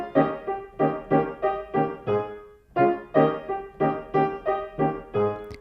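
A plain piano phrase with no appoggiatura, in a Hungarian-flavored style: repeated struck chords and notes in a bouncy rhythm with a short pause midway, played alone and close.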